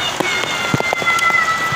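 Heavy rain falls in Karachi, a close, steady patter of drops striking surfaces with scattered louder plinks, and no voices.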